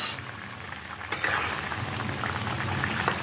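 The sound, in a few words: pumpkin and fish curry simmering in a pot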